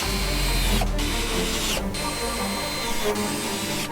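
A power tool drives screws into a Skeeter ZX250 boat's cooler lid, making a loud, steady mechanical whir broken by two short pauses between screws.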